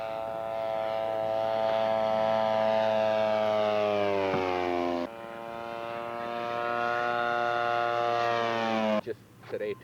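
Scale model aircraft making a flyby, its engine a loud, steady droning buzz that holds one pitch and sags slowly, dips briefly midway, then cuts off near the end.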